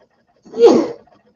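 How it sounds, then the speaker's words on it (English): A single short, loud sneeze from a man, close to the microphone and alone, in a quiet room. "See, I just sneezed."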